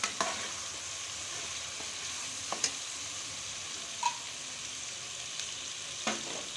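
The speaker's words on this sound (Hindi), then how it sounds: "अब उसी तेल में जो है हम बीफ को फ्राई कर रहे हैं" Beef sizzles steadily in hot oil for beef korma, a continuous crackling hiss with occasional soft clicks and stirring scrapes.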